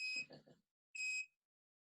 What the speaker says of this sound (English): it's increased the beep frequency in the last 10 seconds to warn you that you're running out of time